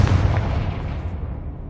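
Confringo spell explosion in the Hogwarts Legacy video game, a heavy, rumbling blast that fills the moment loudly and decays slowly into a low boom.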